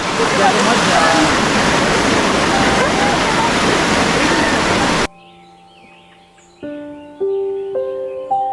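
Rushing stream water at a forest crossing in Andharban fills the first half loudly and steadily, then cuts off, replaced by quiet ambience with sustained musical tones.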